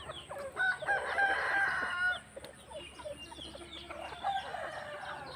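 Several chickens cluck close by while a rooster crows in a drawn-out call, followed by more scattered clucking.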